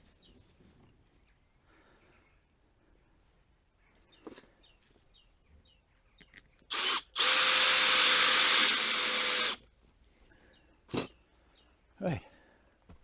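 A cordless power drill fastens a door onto a polytunnel, whirring in short bursts and then one steady run of a few seconds, close and loud against quiet surroundings with light chirping birds and brief knocks.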